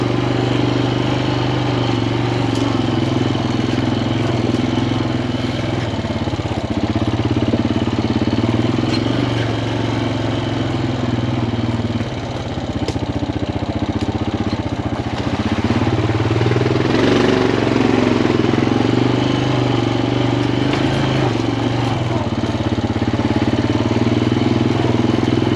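A Honda full-time four-wheel-drive ATV engine runs steadily close by at a low, even idle-like drone for the whole stretch, with slight swells in intensity and no talking.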